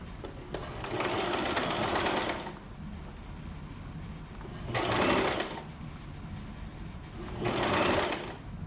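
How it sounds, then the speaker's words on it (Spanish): A sewing machine stitches a blouse seam at 1 cm in three loud, close bursts of rapid, even whirring, with quiet pauses between them. "Entonces ahora sí lo voy a coser a 1 centímetro."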